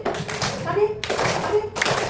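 Children clap their hands in short bursts during a call-and-response classroom game, with a teacher and kids talking between the claps.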